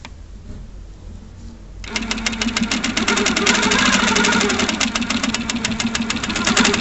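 A Handi Quilter longarm quilting machine stitches through fabric, starting after a quiet moment into a loud, rapid, steady mechanical chatter that runs continuously to the end.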